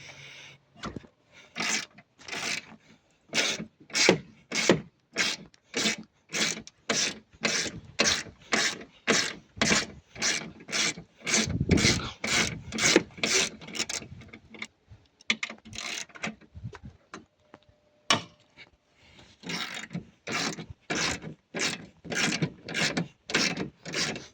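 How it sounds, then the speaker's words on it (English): A ratchet wrench undoes 10 mm bolts on the engine of a non-running Ford Transit MK7 2.4 TDCi, making close, rapid bursts of clicking in a steady, repeated rhythm with brief pauses between runs. "These are 10 millimeters. So, just undo them."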